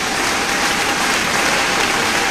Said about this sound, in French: Peux-tu acclamer le Seigneur pour cela?